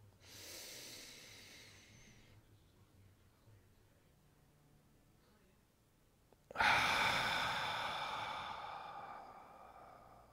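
Close, audible breath during a yoga flow: a long airy breath first, a quiet pause, then a sudden deep inhale that stays loud and rushing to the end, with no talking.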